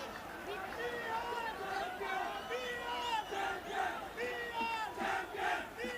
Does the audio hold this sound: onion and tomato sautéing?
no